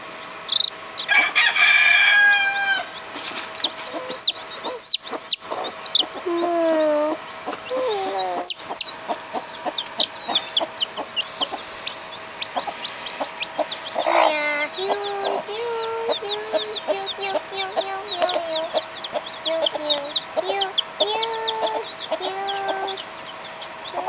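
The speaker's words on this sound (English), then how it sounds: "there's your chicken with her chicks" A hen clucks repeatedly close by, with high peeping chicks around her and a rooster crowing early on, in a busy outdoor farmyard.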